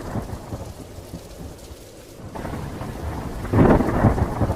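Steady rain pours down in a cartoon storm scene by a river, with deep thunder rumbling and then swelling into a louder crack near the end, no voices over it.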